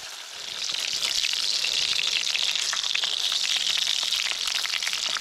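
Sisig sizzling and popping steadily in a frying pan at a camp set up inside an abandoned mine, a loud, continuous hiss with crackling spatters and no voices.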